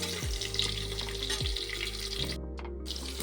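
Chopped onion dropped into hot oil with garlic, mustard seeds and cumin for medu vada, a steady close sizzle and crackle with light stirring scrapes, no talk.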